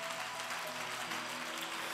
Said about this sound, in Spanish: ¿Cuántos pueden darle aplauso al Señor esta noche?